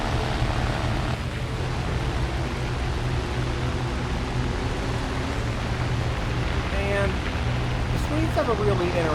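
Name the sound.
Fokker plane engine in flight, video game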